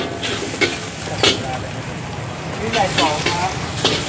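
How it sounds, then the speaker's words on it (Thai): Pad see ew noodles stir-fry in a hot wok at a busy Thai pork eatery, a loud continuous sizzle broken by sharp scraping strokes of the spatula against the pan, close up, with voices chatting underneath. "อุ้ยได้ดูผัดซีไวๆด้วยทุกคน"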